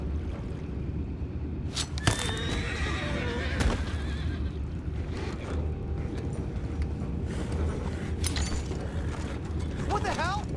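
A horse whinnies loudly in Red Dead Redemption 2, then again near the end, over a busy background of creaking, clattering mechanical noise.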